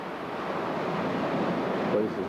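Broad, steady wash of surf and wind noise at moderate level, with a faint voice briefly near the end.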